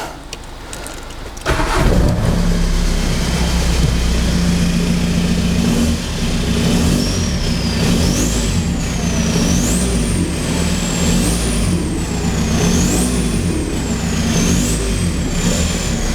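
Seat Ibiza TDI diesel engine cranking and catching, then settling into a loud, steady clattering idle up close, with a rising and falling warning chime joining partway through.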